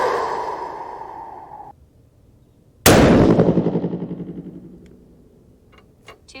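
A 6.5 PRC rifle loaded with 62.5 grains of US869 powder and a magnum primer fires one sharp, loud shot close by, its echo rolling away over several seconds after the tail of an earlier report.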